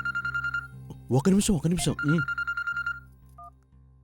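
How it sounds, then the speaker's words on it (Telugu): A telephone ringtone plays as a repeating electronic tone pattern, pausing while a voice speaks briefly, then resuming and fading with a final short beep. "తాతయ్య మీకు ఫోన్ వస్తుంది."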